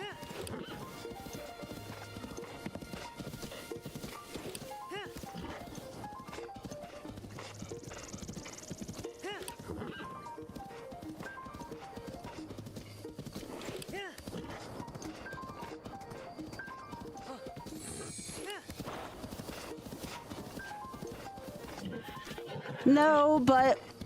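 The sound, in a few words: horse galloping in video game Zelda Breath of the Wild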